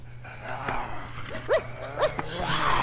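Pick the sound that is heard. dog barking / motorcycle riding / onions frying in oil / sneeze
dog barking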